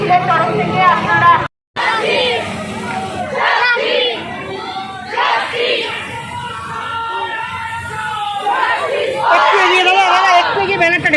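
A crowd at a street protest march by former students of Dum Dum Motijheel Science College, with loud chanting voices, babble and one brief dropout, and a voice speaking over the noise.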